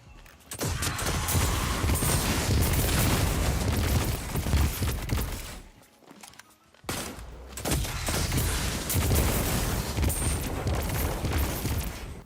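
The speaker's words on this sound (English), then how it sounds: "the explosion that you see on the weapon is pretty substantial" Graviton Lance weapon explosions in Destiny 2 erupt in a dense, continuous barrage of booming blasts and rapid gunfire, loud and sustained, with a brief lull midway before the volley resumes.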